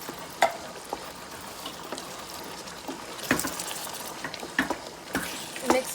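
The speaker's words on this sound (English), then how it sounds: "Mix it well until everything is well combined." Ground meat mixed with canned tomato sauce for lasagna is stirred in a pan, a wet sizzling hiss broken by irregular scraping and squelching knocks from the spoon, close and fairly loud.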